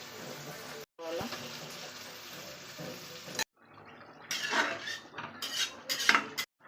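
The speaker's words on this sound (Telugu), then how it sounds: "కొద్దిగా వాటర్ వేసుకోవాలి." Water pours into a pan of chicken curry amid clattering utensils and scraping in a home kitchen, with faint splashing and metallic knocks that grow busier toward the end.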